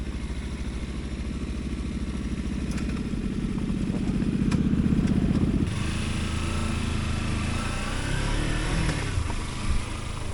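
Kawasaki Versys X-300 motorcycle riding across Section 6 of the Oregon Backcountry Discovery Route, a steady close engine drone with wind rush that swells briefly then settles, with faint clatter over rough ground.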